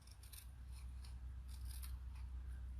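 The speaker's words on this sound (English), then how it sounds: "So you cut them longwise." Scissors slicing lengthwise through card stock for a Z-fold Christmas card, a steady snipping rasp running throughout at close range, moderately quiet with no voices.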